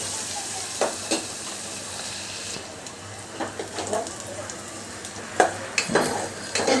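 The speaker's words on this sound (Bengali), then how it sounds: "এই যে দেখতে পাচ্ছ আমার পেঁয়াজটা বেশ ভাজা ভাজা হয়ে এসেছে" Onions frying in a pan give off a steady hiss, with intermittent stirring scrapes and clatters that grow busier toward the end, heard up close.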